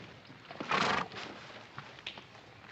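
A horse lame from a stone bruise on its left front foot after losing a shoe gives a single short whinny, close and alone, followed by faint rustling.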